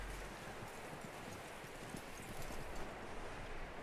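Horse hooves in the western game Red Dead Redemption 2: a faint, steady clip-clop of hooves over soft ground with light wind and rustling, no voices.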